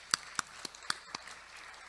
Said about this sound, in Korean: 박대성 교우님께 다시 한번 박수 드리겠습니다